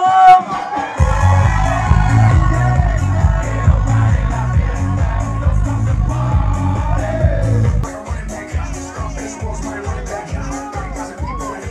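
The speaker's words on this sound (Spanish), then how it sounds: "Todo el mundo un grito." A large crowd yells and whoops together at a graduation party in Ajalpan, Puebla, over loud, thumping disco music from a mobile sound system, with a host's amplified voice.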